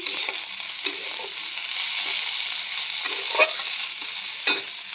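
Flat beans (sheem) sizzling in a pan while being stirred, a continuous fry noise broken by several distinct scraping and clicking strokes of a utensil at irregular intervals.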